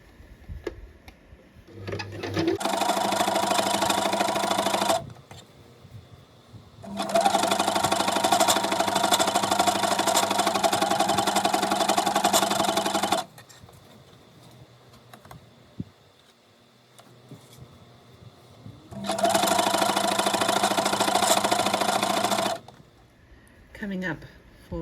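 A sewing machine runs in three long steady bursts, stitching layers across buttons while converting a dress into a skirt, with quieter pauses between runs and some talk during the gaps.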